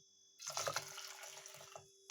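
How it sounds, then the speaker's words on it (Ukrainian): Boiling water pours briefly into a pot of buckwheat with a soft gurgling splash, tapering into a few light drips, then a short clink at the end. "додаємо кип'ячу воду"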